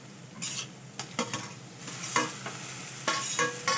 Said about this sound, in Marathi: एकाकडे आपण आता तोपर्यंत कांदे टमाट्यांना फोडणी दिलेली आहे.